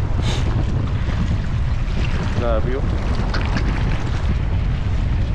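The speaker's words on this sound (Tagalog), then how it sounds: "Sumasampa na po yung alon dito." Steady roaring wind buffets the microphone while strong waves churn and crash against rocks at a fish pond, with a brief spoken exclamation midway through.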